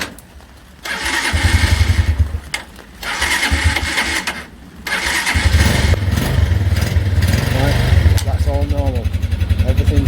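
A 125cc motorbike engine with a fault that keeps it running after the key is turned off, cranking, catching and then running loudly and close, with a brief pause between attempts before it settles into a steady buzzing idle.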